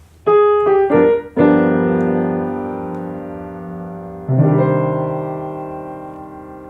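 Piano notes strike in quick succession, then a full upper-structure jazz chord voicing rings out and decays, followed by a second chord fading slowly.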